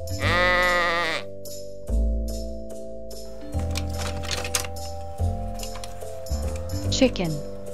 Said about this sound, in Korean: Sheep 양